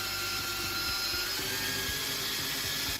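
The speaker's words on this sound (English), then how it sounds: "if you listen super closely, you can definitely tell when you're boring into a stud." A power drill drives 3-inch cabinet screws into a solid wooden stud, a loud continuous whirring grind with a steady motor drone and a slight change in load partway through, close up with no talk.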